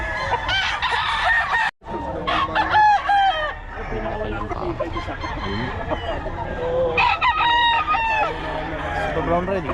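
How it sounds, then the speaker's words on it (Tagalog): Roosters crow repeatedly and chickens cluck nearby, a dense, loud chorus of overlapping crows and clucks filling the whole stretch, with some voices talking underneath. "Ay manok."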